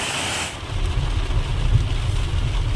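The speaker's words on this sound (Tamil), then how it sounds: "மழை பெய்யுது" Heavy rain pours steadily outdoors near a waterfall in Kodaikanal's hill country, a dense continuous wash with no break over the short stretch.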